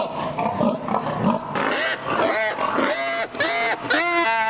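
Loud, drawn-out squeals and grunting from pigs close by in confinement stalls on a farm, overlapping calls rising and falling in pitch.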